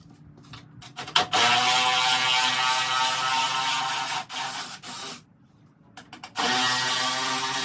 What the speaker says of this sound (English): ratchet, so I'm gonna use that to speed up some time here for me